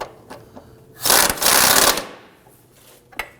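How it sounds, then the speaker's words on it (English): A ratchet wrench tightens a lower control arm bolt on a 2008-2011 Ford Focus, a close rapid clicking burst lasting about a second, then a brief pause and a second sustained run, with faint taps around it. "And tighten up the rear outward bolt."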